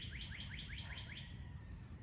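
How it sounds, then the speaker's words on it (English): A bird outdoors gives a quick run of five evenly spaced rising chirps, then one higher note. The calls are soft and fairly distant over a quiet, low background hum. "I love hearing the birds chirp."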